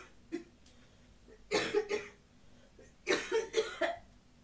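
Two bursts of coughing, each a short cluster of three or four harsh, throaty coughs, close and fairly loud, separated by quiet pauses with no speech.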